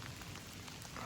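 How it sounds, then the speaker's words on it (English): Steady rain falls outdoors in a soft, even hiss of drops on surfaces, heard for a brief moment at moderate distance with no voices. "but it's raining pretty good right now."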